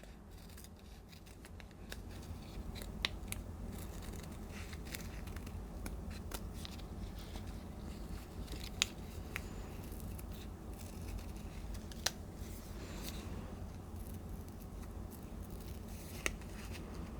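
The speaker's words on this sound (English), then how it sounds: "I'm going to cut it out following the pattern just like I did with the cuff" Scissors snip through fabric while cutting out a heart along a pattern, a quiet close-up series of irregular crisp cuts with occasional louder snaps against soft rustling.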